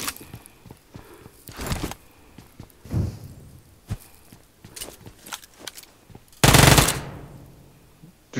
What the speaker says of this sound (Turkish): Bir anda M4 sıktı.